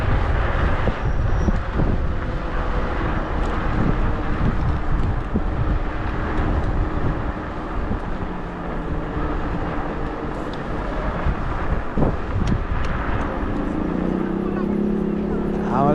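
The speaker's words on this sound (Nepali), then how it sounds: "हावाले त डेन्जर हल्लाउँछ" Strong wind at a lakeside in Sardinia, a loud continuous roar buffeting the microphone for the whole stretch, with a low engine-like hum rising near the end.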